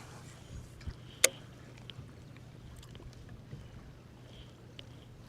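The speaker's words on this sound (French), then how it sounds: "on a quand même le moteur qui avance un petit peu" Boat motor running slowly during a pike-fishing trip among weed beds, a faint, steady low hum throughout, with a sharp click and a few soft knocks and splashes on the water.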